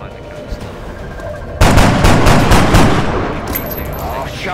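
Gunfire from the video game XCOM Enemy Within erupts as a loud sharp volley mid-clip and then decays into a rattling, booming tail over a few seconds, with a voice present.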